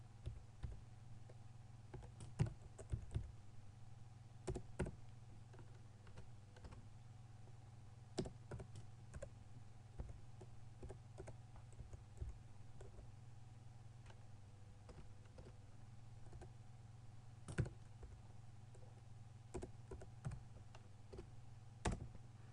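Typing on a computer keyboard during a math lesson, quiet scattered key clicks in irregular bursts over a steady low electrical hum, fairly faint and distant, with no talking.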